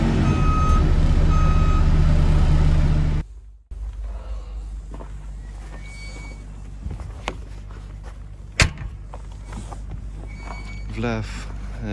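A Bobcat T35.105 telehandler is put into reverse after loud engine running that cuts out abruptly, followed by quieter idling with scattered knocks and a faint repeating electronic beep near the end.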